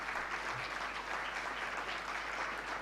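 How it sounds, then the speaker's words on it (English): Sustained applause from an audience at an official opening event, a dense even wash of clapping lasting throughout with no talk over it. "Please, let's clap for them."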